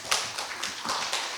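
Audience applause at an academic conference on East Asian affairs, a short burst of scattered clapping from a seated crowd in a hall, fairly soft and brief.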